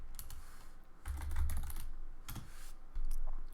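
Short bursts of typing on a computer keyboard, quick clustered keystrokes with brief pauses between them, close and fairly quiet with no talking.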